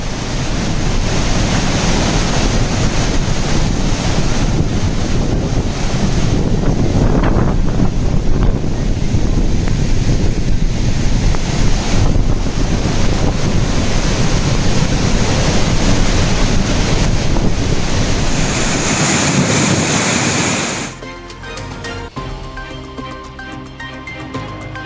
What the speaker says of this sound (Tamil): குற்றால அருவிகளில் வரலாறு காணாத அளவில் பெருக்கெடுக்கும் வெள்ளம்